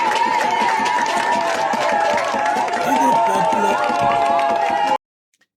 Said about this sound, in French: les peuples applaudissent, ils sont contents de l'ouverture de la frontière